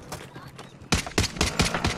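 Bursts of automatic gunfire in Call of Duty: Modern Warfare, with a run of sharp, evenly spaced loud shots in the second half following quieter distant firing.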